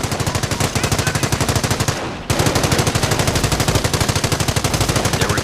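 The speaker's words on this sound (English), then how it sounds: "The MG emplacement is suppressing the enemy troops." A machine gun emplacement in the video game Company of Heroes fires loud, rapid, evenly spaced automatic bursts, pausing briefly about two seconds in before resuming at full volume.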